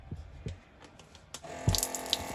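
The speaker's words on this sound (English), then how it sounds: "I have running water in the bathroom." A bathroom sink faucet in a mobile home, a couple of soft knocks and handling sounds before water starts running and splashing steadily into the basin, close and moderately quiet.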